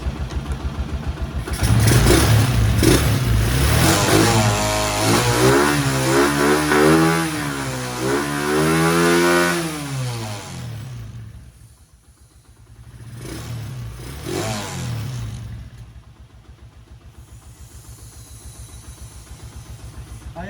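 A motorcycle engine revs during an RPM test after its carburetor was cleaned, rising and falling in loud, close sweeps before settling into a steady idle, followed by a shorter second rev.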